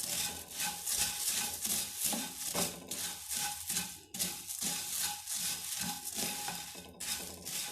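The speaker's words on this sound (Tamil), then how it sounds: "வெறும் வாணலியில் வறுத்துக்கிட்டா போதுங்க" Puffed rice (pori) is stirred and dry-roasted over low flame in an empty pan, with continuous scraping, rustling and light clinking of the spatula against the metal, close and busy with brief pauses.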